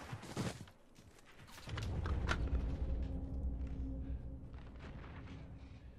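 A grenade in the shooter game Call of Duty: Modern Warfare goes off in a loud deep boom that swells and rumbles for several seconds, after a few quick thuds of movement.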